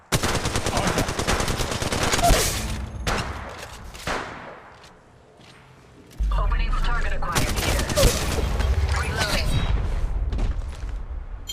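Dense automatic gunfire in Apex Legends rattles loudly, with rapid machine-gun bursts, a brief lull, then renewed heavy shooting and booming impacts, with voices underneath.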